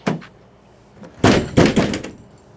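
Tailgate of a 2021 Ford F250 dropping open hard with no assist, a loud clattering slam and a second heavy bang close by, after a faint knock.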